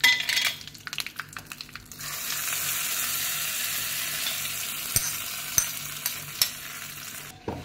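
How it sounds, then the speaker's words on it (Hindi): Dry red chillies and curry leaves sizzle in hot tempering oil for chutney, a steady loud frying hiss beginning after a couple of seconds, with occasional clinks of a utensil against the pan. "अब ये सूखी मिर्ची डाल दी, और अब इसमें डाल देंगे कड़ी पत्ता"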